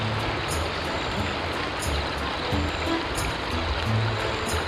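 Australian river flowing over rocks, a continuous close babbling rush of water with small splashes and trickles, steady and moderately loud with no talk.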